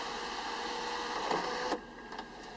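A sunroof closing on a 2007 Mercedes-Benz GL450 4Matic, heard as a steady electric motor whine with a faint mechanical hum that rises slightly before stopping with a soft thunk, followed by quieter cabin ambience.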